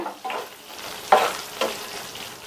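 Radish cooking in masala in a pan, stirred with a few distinct scraping strokes over a soft sizzle, close and short.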